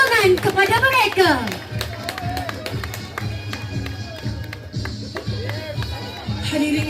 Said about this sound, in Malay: Marilah kita bersama-sama memberikan tepukan yang paling gemuruh sebagai tanda penghargaan dan sokongan kepada mereka